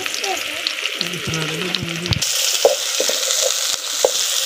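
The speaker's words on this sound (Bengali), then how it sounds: "পেঁয়াজ কুচি দিয়ে দেব।" Chopped onion hits hot white oil in a wok and breaks into a loud, steady sizzle, with a few stirring knocks. Faint talking and low tones come just before the frying swells.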